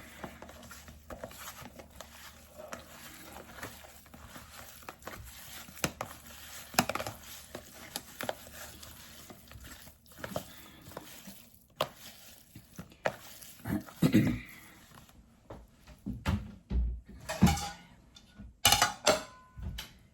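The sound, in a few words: mixing ground meat with onion and garlic by hand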